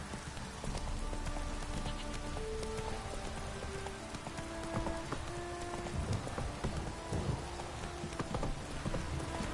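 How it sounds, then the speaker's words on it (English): Steady, heavy rain pours down and patters on surfaces throughout in the video game The Witcher 3: Wild Hunt, with a few faint tonal notes and thuds mixed in. "This downpour's a bastard, it is."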